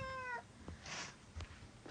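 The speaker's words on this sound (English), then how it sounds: "Who's meowing?" A house cat meows once, a short clear cry near the start, followed by soft thumps and faint household rustling in a quiet indoor room.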